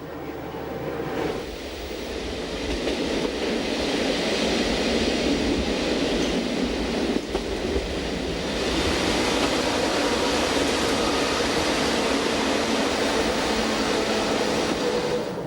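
The Bernina Express runs along the Swiss railway, a loud, close, continuous rumble of wheels on track with rattling carriages and brief clanks, and no one talks over it.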